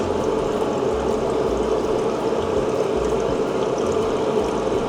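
Dirty rinse water poured out of an airbrush paint cup, a steady rushing splash that runs on without pause for several seconds, close and alone.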